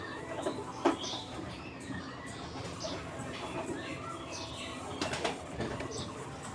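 Domestic pigeons coo softly at a home loft, low murmuring calls repeating faintly under a busy, noisy background with a few sharp knocks and rustles.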